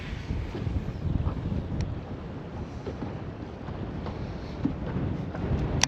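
Strong wind gusts across open water along a lakeshore during a fishing trip by boat, a steady low roar buffeting the microphone with no lull for the full stretch.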